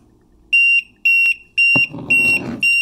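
A DIY dishwasher leak detector alarm sounds during a test, a loud, piercing electronic tone pulsing on and off in evenly spaced beeps, with a brief clatter of handling noise partway through.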